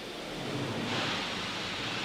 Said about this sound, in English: you could even hear some of those gases being vented over just shortly